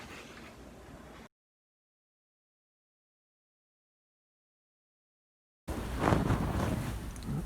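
Strong wind buffets the microphone in two bursts of rushing, roaring noise, split by a stretch of total silence, the second gust louder and harsher.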